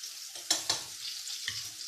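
Food frying in hot oil, sizzling steadily with a few sharp bursts and stirring noises, close and moderately loud, no talk.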